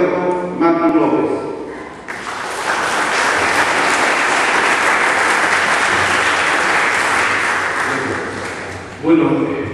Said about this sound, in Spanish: Recibamos todos un fuerte aplauso al doctor Carlos Alberto Martín López.